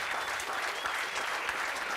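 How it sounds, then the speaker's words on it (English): Steady applause from a crowd at a ribbon cutting, dense clapping that fills the whole stretch at an even, fairly loud level. "He deserves the applause."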